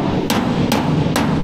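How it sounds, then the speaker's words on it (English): A body hammer strikes a metal truck bed panel backed by a dolly three times, each blow a sharp, loud metallic clank spaced evenly and standing alone against a faint background. "You can actually hear the metal when it's hitting on the dolly."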